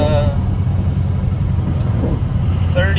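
A 700hp 6.0 Powerstroke diesel engine under turbo boost gives a steady, loud low rumble with a constant droning tone, running close by for a few seconds without a clear rise in revs.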